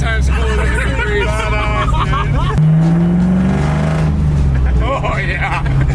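LS-swapped 1975 Camaro with a 1970 front end, Cam 5.3 engine and Tremec TKX 5-speed, a loud rumbling engine with revs rising and falling, up close under excited voices.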